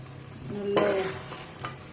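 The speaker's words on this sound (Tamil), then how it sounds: "கிளறி விட்டுக்கோங்க" Chicken gravy, oily and thick, is stirred in a frying pan: a brief scraping stir bursts in at mid-clip over a steady low sizzle, with a second short scrape near the end.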